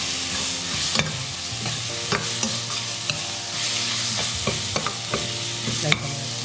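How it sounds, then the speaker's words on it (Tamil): Ginger garlic paste frying in a hot pan for a Karaikudi chicken pepper gravy, a steady close sizzle broken by repeated scraping and clinking strokes of a spoon stirring against the pan. "இஞ்சி பச்சை வாசம் போகிற வரைக்கும் நல்லா ஒரு 2 நிமிஷம் ஃப்ரை பண்ணலாம்."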